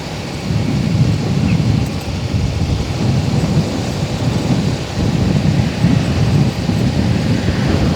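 A continuous heavy low rumble with rhythmic clattering of a train rolling past on the rails nearby, heard from a railway crossing in Central Lampung, loud and steady throughout.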